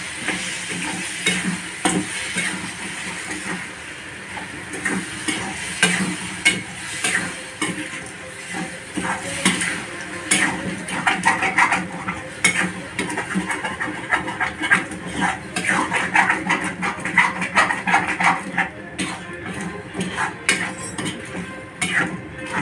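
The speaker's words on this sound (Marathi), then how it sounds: "आता मी छान हलवून घेते." Sugar being stirred in a pan for sakharamba over the stove, with repeated scraping and clinking stirring strokes against soft sizzling, close by and irregular in rhythm throughout.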